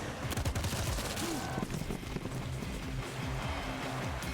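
Rapid gunfire from the game Showgunners, a dense stream of dull shots against defenders over a steady rumbling game backdrop, with a voice speaking over it.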